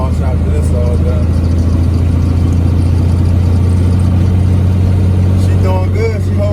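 A 2006 Freightliner Classic XL truck engine labors steadily up a West Virginia mountain grade, a loud, constant low drone close by, with a person talking over it near the end.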